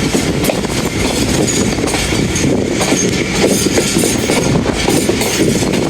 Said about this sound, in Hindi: स्लो स्पीड में पास हो रही है 40 टाउन जाफर एक्सप्रेस